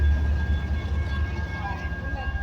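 A BNSF intermodal freight train rumbles low and steady nearby with a faint tonal whine, while someone talks over it.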